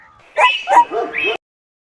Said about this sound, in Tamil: ஒரு தெருநாய் இது.